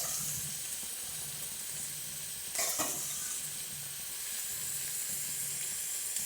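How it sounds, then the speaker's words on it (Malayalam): Prawns tipped into a hot pan, frying with a steady sizzle and hiss, a brief louder burst of crackle as they hit the oil, then continuous quiet bubbling. "അപ്പോൾ എല്ലാ ചെമ്മീനും നമുക്ക് അതിലേക്ക് ഇട്ട് കൊടുക്കാം."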